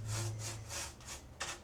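A paintbrush spreads leftover paint onto bare wood of a bathroom cabinet, giving close, rhythmic scratchy strokes repeated several times in quick succession.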